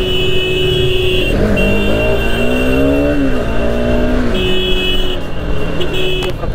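An RS200 motorcycle racing on a road, its steady engine drone loud and continuous throughout, with pitch rising and falling as the rider revs and shifts, and a brief horn-like toot partway through.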